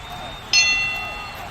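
A single bell strikes to open the next round of a Star Citizen melee championship, ringing out bright and clear and then slowly fading over a steady murmur of background voices.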